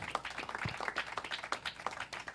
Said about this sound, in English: Live audience claps.